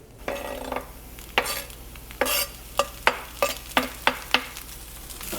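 Chopped spinach leaves tossed into a pan with cooking potatoes: a soft sizzle runs throughout, broken by a series of sharp scraping and stirring knocks of a utensil against the pan, coming faster toward the end.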